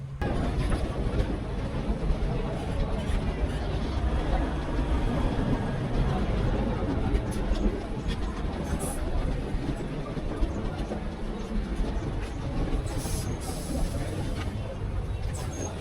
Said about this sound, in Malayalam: കറക്റ്റ് 9 മിനിറ്റ് ലേറ്റായി കോഴിക്കോട് റെയിൽവേ സ്റ്റേഷനിൽ നിന്ന് ട്രെയിൻ എടുത്തിട്ടുണ്ട്